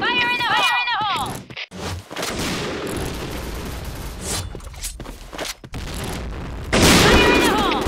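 Bursts of gunfire and a heavy grenade blast fill a clan-war match in a shooter video game, loud and close, with chirping game effects and players' voices calling out over the action.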